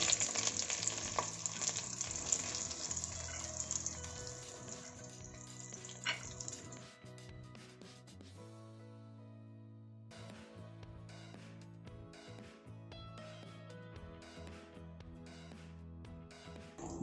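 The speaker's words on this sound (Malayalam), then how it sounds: "അപ്പോൾ നമ്മൾ ഇനിയിപ്പോൾ നമ്മളത് ഇതിലേക്ക് ഇനി നേരെ സവാള അരിഞ്ഞത് ഇന്നത്തേക്ക് ഇടണേണ്." Chopped onions for a Kerala pork fry sizzle steadily in a hot pan. The loud hiss is broken by spoon-stirring scrapes and light clinks, and it settles into a quieter, even fry with no voices.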